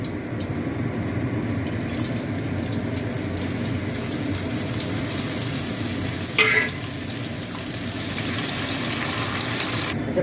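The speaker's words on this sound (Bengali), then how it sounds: "দিয়ে এই তেজপাতা, শুকনো লঙ্কা, জিরে আর গোটা গরম মশলা আমি এটা ফোড়নে দেবো" Bay leaf, dried red chillies, cumin and whole garam masala spices sizzle steadily in hot oil in a pan, a loud, continuous frying crackle with a brief clink midway and no talk.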